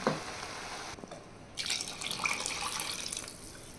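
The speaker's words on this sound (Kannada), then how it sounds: "ಎರಡು ಗ್ಲಾಸ್ ಅಕ್ಕಿಗೆ ಇಲ್ಲಿ ನಾಲ್ಕು ಗ್ಲಾಸ್ ನೀರು ಸೇರಿಸ್ತಾ ಇದ್ದೀನಿ" Water is poured into rice in a pot, four glasses for two of rice, for a fenugreek and potato rice dish, as a continuous close splashing rush with a short gap before resuming more strongly.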